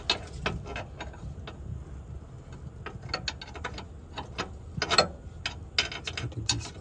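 17mm ratchet tightening the inner bolt of a rear lower control arm on a car, giving quick bursts of sharp clicking pawl strokes in an irregular rhythm, close and fairly loud throughout.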